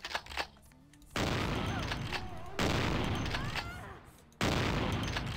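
A gun fires in Vampire: The Masquerade - Bloodlines in long, loud bursts separated by brief pauses, while a person talks in between.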